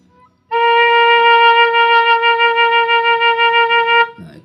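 A single long, steady note ti blown on a four-hole Sundanese suling degung flute with three holes closed, bright and clear with a gentle wavering, then a moment of speech at the end.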